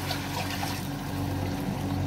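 Water being poured into a pot of browned chicken for Afghani kabuli chicken pulao, a steady continuous trickling and splashing pour, close and fairly loud, with no talking.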